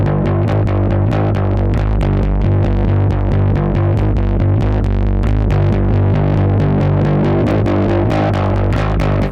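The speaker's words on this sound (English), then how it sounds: "You hear the actual distortion change." Dense, heavily distorted tone from the Kit Plugins NP A67 preamp plugin with an EQ before it, played continuously, thick saturated grit with steady loudness throughout and no pauses.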